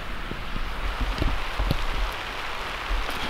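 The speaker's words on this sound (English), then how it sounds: "How about this rain?" Rain falls steadily on a vegetable farm in North Carolina, a continuous close patter of drops on surfaces with occasional louder taps, heard alone.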